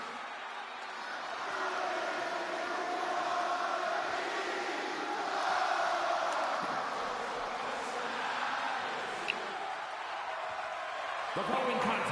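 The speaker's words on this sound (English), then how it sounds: "Crowd is singing his music" A large arena crowd sings a wrestler's entrance music for CM Punk in WWE 2K26, a broad sustained chant that swells and carries on steadily under the game audio.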